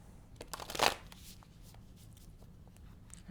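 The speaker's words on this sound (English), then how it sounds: "the cards are shuffling smoothly right now." Oracle cards are shuffled close up in a quick riffle that swells to a short burst, then trails into soft, scattered card and hand rustles, fairly quiet.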